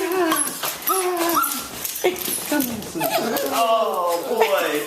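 Puppies whimper and yip in high, wavering cries close by, a rapid run of short whines and squeals overlapping with a person chuckling and talking to them.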